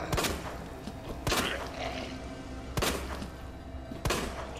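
Resident Evil 2 gameplay has four sharp gunshots spaced about a second or more apart, each a loud crack over low background game ambience, with no talk.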